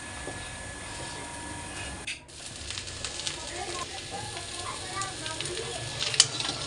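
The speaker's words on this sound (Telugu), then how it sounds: "సిమ్లోనే పెట్టుకొని ఫ్రై చేసుకోండి కాకరకాయని, లేదంటే మాడిపోతుంది" Bitter gourd (kakarakaya) frying on low heat in a pan, a steady soft sizzle with light stirring clatter and a brief clink, under nearby talk.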